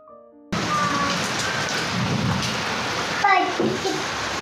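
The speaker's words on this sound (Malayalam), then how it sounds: "അടിപൊളി മഴയാണ് സുഹൃത്തുക്കൾ, അടിപൊളി മഴ" Heavy rain pouring steadily on surfaces, a dense continuous hiss that starts suddenly and fills the whole stretch, with a brief faint voice and a few small clatters near the end.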